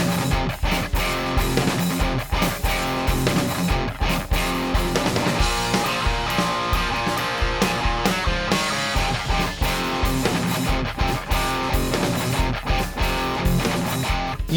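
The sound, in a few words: electric guitar rock tone, slight gain boost, EQ pedal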